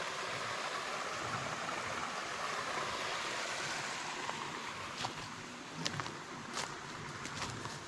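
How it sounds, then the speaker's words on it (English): A small waterfall on a rural property pours into a cold pool about 2.5 feet deep, making a steady broadband rush of water with a few faint clicks near the end. "There's our little waterfall."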